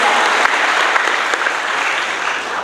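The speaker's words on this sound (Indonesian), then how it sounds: "Beri tepuk tangan dulu dong buat Tuhan Yesus Kristus." Applause from a church congregation at a GBI service in Semarang, a dense, steady wash of many hands clapping at once, loud and close throughout with no talk over it.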